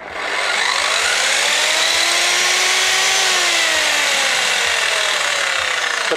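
A Bauker circular saw runs freely in the air with no workpiece, a loud, steady high whine that spins up quickly and holds its pitch for several seconds, alone with no talking.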